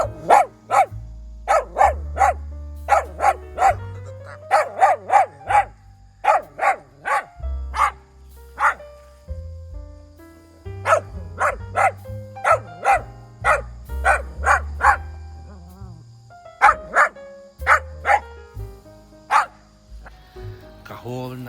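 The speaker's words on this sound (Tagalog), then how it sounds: "Kahol ng aso, palakas ng palakas" A dog barks repeatedly in quick bursts, loud and close, with short pauses between volleys over a low hum.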